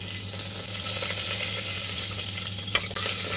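Whole garam masala fries in hot oil with a spoonful of ghee, a steady close sizzle with a few stirring scrapes and a sharp clink near the end, no voices.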